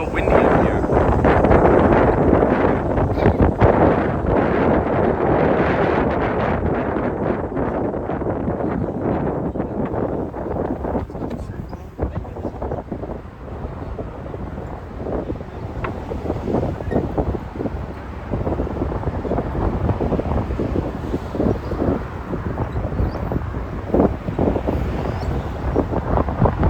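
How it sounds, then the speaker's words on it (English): Strong wind on top of the Brooklyn Bridge buffeting the microphone in a constant low roar, gusting and easing slightly throughout, with no clear talk. "It's just a little windy up here."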